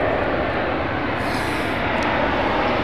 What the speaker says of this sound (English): It's a clip wing, 777-200.